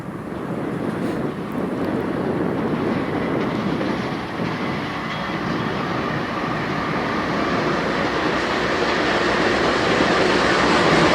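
A freight train hauling a string of JB Hunt intermodal containers rolls past close by, with a loud, steady rumble, wheel clatter and wind buffeting throughout, and no voices.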